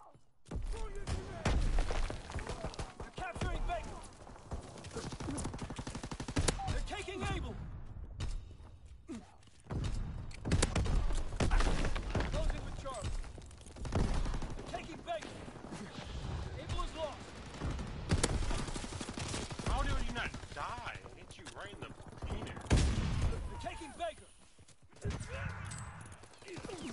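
Gunfire in a Call of Duty match, bursts of shots crackling loud and close amid game effects and voices, continuing with short gaps across the stretch.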